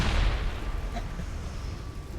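A grenade explosion in Mass Effect Legendary Edition booms loudly at the start and fades into a rumbling tail, with a voice briefly present.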